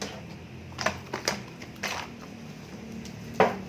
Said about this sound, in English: Jeez Louise, I cannot shuffle today.